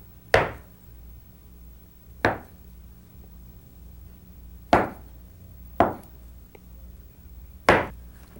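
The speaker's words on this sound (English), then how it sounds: "Now let's cut this half in half, like so." A knife cuts through pastry rolls on a board with five sharp, separate chops spaced a second or two apart, each a crisp knock with a short decay, close by in an otherwise quiet kitchen.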